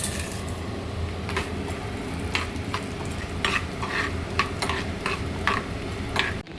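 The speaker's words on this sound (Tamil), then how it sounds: "பூண்டு இது போட்டு நல்லா வதக்கணும்." Garlic, mustard seeds, cumin, urad dal and chana dal sautéing in a pan for homemade garlic pickle, with a steady sizzle and repeated scraping stirs of a spoon against the pan, close and continuous with no talking.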